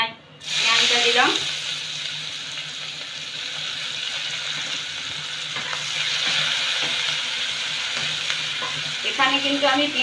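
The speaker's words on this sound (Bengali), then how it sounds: "এভাবে ঝিরিঝিরি করে পেঁয়াজটা দিলাম।" Thinly sliced onion stirred and frying in a pan with garlic, for a mustard rohu fish dish: a steady, loud sizzle runs throughout, with spatula scrapes near the start and end.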